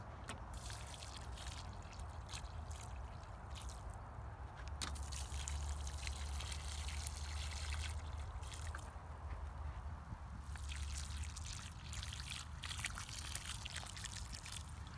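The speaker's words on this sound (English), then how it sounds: "the last thing will be to put some water on these" Water is poured onto newly planted tomato plants in a vegetable garden, a faint continuous trickle and splash of water on soil, steady and quiet throughout with no talk.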